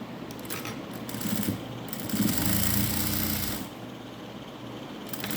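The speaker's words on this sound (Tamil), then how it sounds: "இதை ஃபோல்ட் பண்ணி க்ளோஸ் பண்ணி ஸ்டிச் பண்ண போகிறோம்" Sewing machine stitching folded sari cotton fabric, a close mechanical whirring run that builds up, holds for about two seconds and then eases off over a background hum with no talk.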